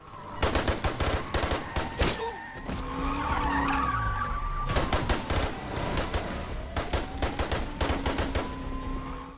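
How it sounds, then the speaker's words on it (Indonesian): Rapid bursts of film gunfire crackle through a shootout scene, clustered volleys separated by a pause filled with squealing skids and engine noise, then more sharp rounds. "Dalam aksi baku tembak itu, Gabriel yang hanya seorang diri bisa menumbangkan beberapa polisi"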